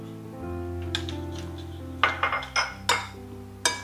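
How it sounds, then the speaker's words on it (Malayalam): Spices for mango pickle, Kashmiri chilli powder, regular chilli powder and roasted ground fenugreek, being mixed in a bowl, with a run of sharp clinks and scrapes of a spoon against the dish near the end, close and fairly quiet. "എല്ലാം കൂടി ഒന്ന് മിക്സ് ചെയ്യാം."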